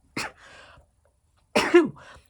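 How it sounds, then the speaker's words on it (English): Two sharp, close sneeze bursts come about a second and a half apart, each trailing into a short breathy tail, with silence between them. "Oh, I'm going to sneeze."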